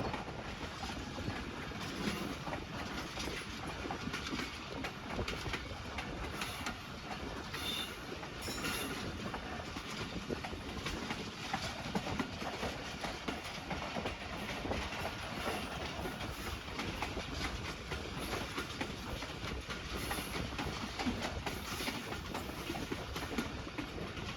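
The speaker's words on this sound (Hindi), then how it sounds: "हानेवाल ब्रांच लाइन पर हमारी ट्रेन डाइवर्ट हो चुकी है।" Pakistan Express passenger train rolls along the Wazirabad–Khanewal branch line through rural Punjab, a steady broadband rumble of wheels on rails with faint clickety-clack and occasional squeals, continuous and fairly quiet throughout.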